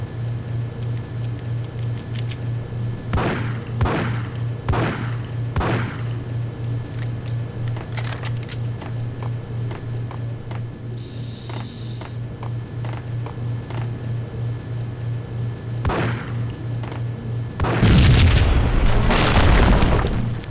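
Explosions in the Max Payne video game come as a series of sharp booms and bursts over a steady low ticking hum, ending in a louder, denser blast near the end.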